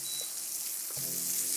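Wet seasonings sautéing in hot coconut oil in a pan, giving a steady, close sizzle that holds even throughout with no talking.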